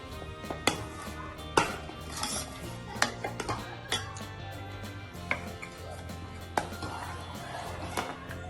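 Sambar being stirred in a pot after water is added: a ladle clanks and scrapes against the metal in a loose rhythm of sharp knocks over a low background hum.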